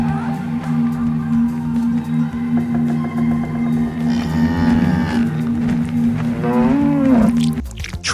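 Cow mooing in the horror game Zoonomaly, a loud, drawn-out low moo with a steady droning tone, swelling in pitch toward the end, with a brief sharp cut-off.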